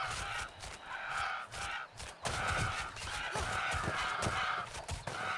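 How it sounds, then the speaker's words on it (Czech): Game birds in the action RPG Titan Quest honk repeatedly in a loud, continuous goose-like chorus, with overlapping calls pulsing steadily throughout and no talk over them. "Ptáci."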